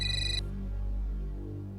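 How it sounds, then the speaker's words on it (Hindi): An incoming call's phone ringtone plays a short bright electronic tone burst for under half a second, then gives way to a low sustained musical hum with no talking. "करिश्मा का फोन इस वक्त?"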